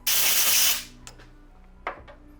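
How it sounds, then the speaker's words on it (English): A short burst of compressed air blows chips and debris out of a freshly machined rifle counterbore, a loud steady hiss lasting under a second, then a few faint clicks and a brief puff. "we're going to give it a little blowout"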